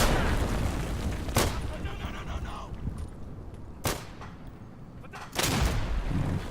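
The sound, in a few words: grenade explosion in the video game Day of Infamy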